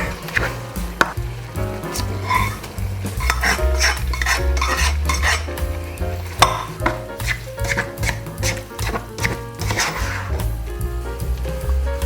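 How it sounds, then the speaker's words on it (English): Noodles are tossed and stirred into a thick chicken chow mein sauce, with repeated scraping and clattering of a utensil against the pan over background music. "It's time to add the noodles, I think."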